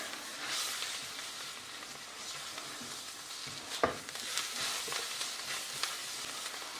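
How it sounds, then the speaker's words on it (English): Flour being stirred into sweated onions in a pan for onion gravy, a steady soft scraping and gentle sizzle with one sharper knock of the spoon partway through, no talking. "get my flour, add that into the onion mix, quickly mix this"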